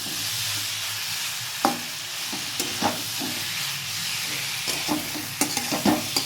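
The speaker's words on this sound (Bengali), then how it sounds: "আলুগুলো সব দিয়ে দিলাম আঁচটা বাড়িয়ে দিচ্ছি এবার আমি আলুটা এর সঙ্গে কষিয়ে নেবো" Potatoes stir-fried with spices over raised heat for dhaba-style ghugni, a steady sizzle and fry hiss broken by several scraping stirs of a spatula in the pan, close and fairly quiet, with no talking.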